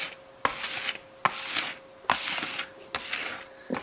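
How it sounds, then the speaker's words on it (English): A dough scraper scrapes leftover bread dough off a kitchen counter in repeated rough strokes, each starting with a sharp scratch and trailing into a hissing rasp, close and moderately loud. "I use my same scraper here to scrape off."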